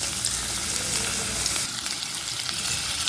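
Boiled green jackfruit and fried potatoes sizzle in hot oil in a pan, a continuous loud bubbling hiss close up with faint stirring, no voices.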